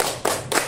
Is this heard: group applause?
yes